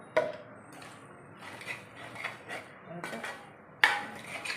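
Beef roast being stirred with garam masala in a pan: faint scraping and a few sharp clinks of a utensil against metal, soft and close, with no clear speech.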